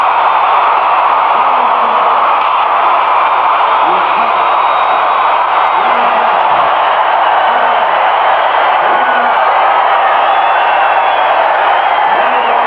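A packed stadium crowd roars after a Los Angeles Express touchdown against the Michigan Panthers, a loud, unbroken wall of cheering and whooping that holds steady throughout.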